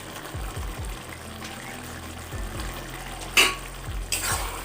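Mixed vegetables sizzle in a pan with grated coconut and ghee, a steady fry broken by repeated scrapes of a spoon stirring, plus a couple of sharper clinks near the end.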